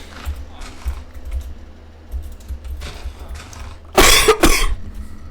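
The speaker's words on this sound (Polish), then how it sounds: "Przepraszam za kaszel" A few faint clicks and rustles, then two loud, harsh coughs close to the microphone near the end.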